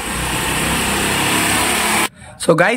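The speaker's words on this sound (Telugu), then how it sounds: "సో ఇది చేసుకున్న తర్వాత బైక్ అనేది స్టార్ట్ చేయాలి" A motorbike engine runs at a steady, buzzing idle, loud and close, for about two seconds, then cuts out abruptly and a voice briefly follows.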